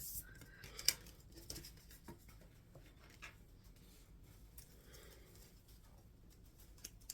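Quiet, soft rustling and light papery snaps as tarot cards are shuffled, close and faint, with a few brief crisp flicks scattered through the clip.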